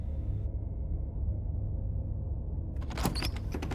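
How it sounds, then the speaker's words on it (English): A cabin door swings open in the video game Slay the Princess, a short burst of creaks and clatter near the end after a steady low ambient rumble. "You open the cabin door"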